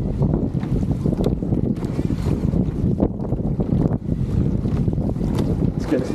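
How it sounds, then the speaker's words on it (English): A strong headwind buffets the microphone during a women's masters eights rowing race on a river, with rough, gusty rumbling and the splash and thud of the boat moving through the water, loud and close. "Really is a headwind into the stream."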